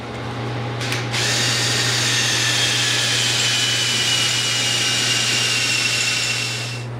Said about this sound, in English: Drill 2 holes to accept these tubes